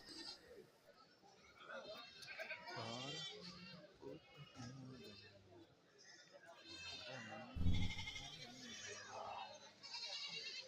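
Goats bleat repeatedly at a busy Kerala goat market after dark, with many loud, wavering calls rising over crowd noise, children's voices and people talking nearby.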